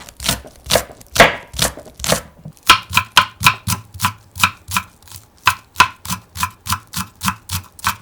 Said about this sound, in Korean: 파 2분의 1대를 다져줄게요.